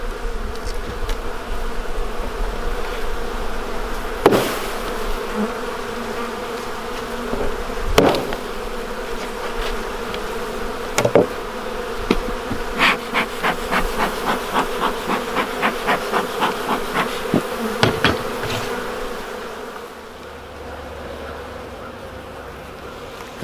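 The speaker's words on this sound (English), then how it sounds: "See, that's a lot of bees up there." Honey bees buzz in a steady, dense drone at a hive in early season, a struggling colony short on food after winter losses; sharp knocks and rapid tapping punctuate the hum, which drops away near the end.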